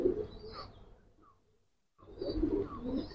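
A Giribaz pigeon coos close by in low, throaty bursts, with a quiet gap before the cooing resumes.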